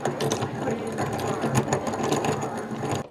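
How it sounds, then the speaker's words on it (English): A hand-cranked apple peeler turning at a country store, giving a steady, busy mechanical whirring with ratcheting, gear-like clicks that runs close and even for about three seconds before cutting off. "Stick an apple on there, give it a crank,"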